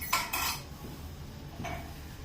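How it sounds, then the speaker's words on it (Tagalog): Plates and cutlery clink and clatter during dishwashing, with two short bright bursts of metal-on-ceramic contact near the start and another about a second later, otherwise quiet. "siya po ay maghuhugas ng mga pinggan."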